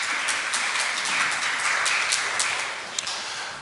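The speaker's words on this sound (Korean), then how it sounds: "하나 여성교회에게 다시 한번 격려의 박수 부탁드립니다." A church congregation applauds at a Sunday worship service, making a steady, close wash of clapping that holds for several seconds and then fades slightly, with no voices heard.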